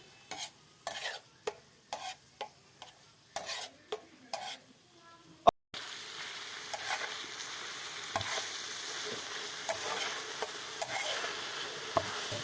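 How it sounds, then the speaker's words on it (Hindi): Tomatoes and onions for a beef kaleji fry are stirred on a tawa in a series of regular scraping strokes, then settle into a steady, even frying sizzle that runs on alone without speech. "अच्छी तरह से पकाएंगे टमाटर और प्याज को भी।"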